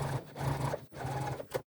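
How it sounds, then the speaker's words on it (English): A sewing machine runs an understitch along a bag's pocket lining edge, whirring in two short close bursts with a brief pause between them, then stopping. "just sewing straight down that edge there"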